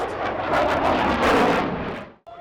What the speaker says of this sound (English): I like the jets because they're super fast.